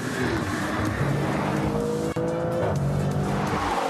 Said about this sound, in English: Car sounds good. Italian, huh?